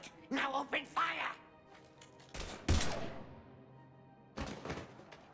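Gunfire in the video game Mass Effect 3, with a few sharp bursts and thuds ringing out between character dialogue, the shots loud and close amid quieter stretches.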